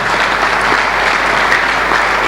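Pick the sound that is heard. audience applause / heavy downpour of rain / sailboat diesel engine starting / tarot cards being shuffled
audience applause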